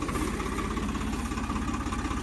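A John Deere tractor engine runs steadily during the wheat harvest, a continuous low diesel drone with a rapid rhythmic thrum, heard close and alone.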